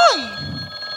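A brief telephone bell ring on a theatre stage during a musical play, a single bright metallic burst that decays and hangs over a soft low background for about a second.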